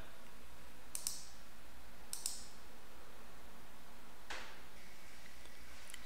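Computer mouse clicks sound three times, a quick double click, then another double click, then a single click, crisp and close against quiet background hiss.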